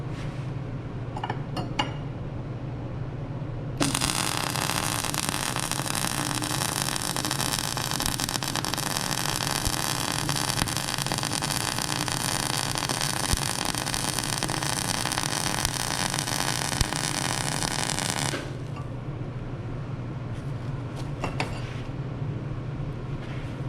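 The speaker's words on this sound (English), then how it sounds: "I'm going to turn the gas off. I'm going to run a weld and we'll see what that looks like." A MIG welder runs a bead with the shielding gas switched off, giving a loud, steady crackling hiss that lasts about fifteen seconds, then cuts off abruptly. Quieter room hum is heard before and after.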